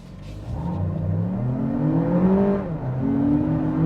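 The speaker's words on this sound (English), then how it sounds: "You definitely hear the 6-speed transmission." A 2023 Lexus RX 500h F Sport turbo hybrid with a 6-speed automatic pulls away under acceleration, its engine note climbing steadily, dipping at a gear change, then rising again, heard from inside the cabin.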